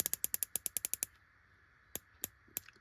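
Locking turret on a Discoveryopt 6-24x44 HT riflescope: a quick run of about ten crisp, close clicks, then three slower single clicks spaced apart, quiet and alone.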